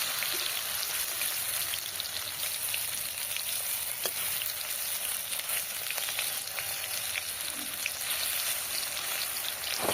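Fritters made from fish oil (bora) frying in a pan over low heat, giving a steady, even, moderately quiet sizzle with fine crackling throughout and a few faint clinks.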